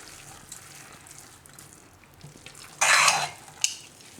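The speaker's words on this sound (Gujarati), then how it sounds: "આ રીતે હલાવી લેવાની જરાક." A spoon stirs cooked mixed dal khichdi in an opened pressure cooker, giving a short burst of wet scraping and then a brief clink against a quiet, faintly noisy background.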